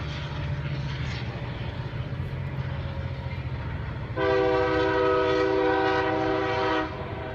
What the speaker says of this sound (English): That's a train, freight train.